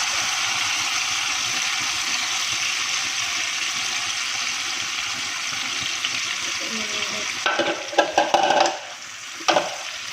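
Chana dal paste frying in a pan for halwa, a steady broad sizzle running throughout, with a few scraping stirring strokes near the end.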